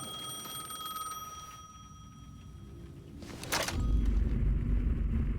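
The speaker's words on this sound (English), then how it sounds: "The payphone was ringing again." A payphone rings in the video game Alan Wake 2, a thin electronic ringing tone that fades after a couple of seconds, followed by a brief burst of noise and a low rumbling ambience.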